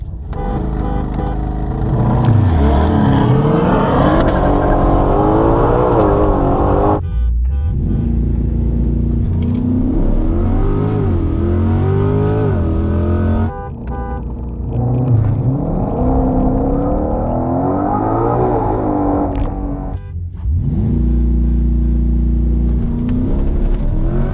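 A C8 Corvette and a 2020 Shelby GT500 launch hard from launch control, with loud, close engine roars rising through repeated gear-shift pulls and brief breaks between runs.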